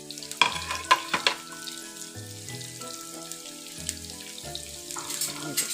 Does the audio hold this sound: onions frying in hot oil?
yes